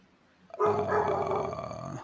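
A thirsty female dog gives a short, gruff bark that trails into a low growl, close and fairly loud against an otherwise quiet room.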